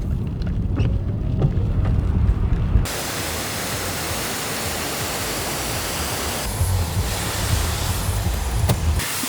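A waterfall and rushing water in Gifford Pinchot forest roar in a steady, close wash of white noise, with a brief change in tone early on before the torrent settles in.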